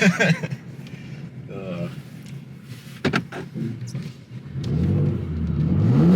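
A Porsche Cayenne Turbo or BMW M3 engine revs while drifting in snow, a low rising drone that swells toward the end, with voices talking in the cabin over earlier mechanical whirs and clunks.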